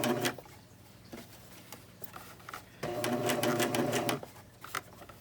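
A serger stitches around a tight corner of a baby bandana bib, running in short quiet bursts of rapid mechanical whirring with brief pauses between them, heard close and alone.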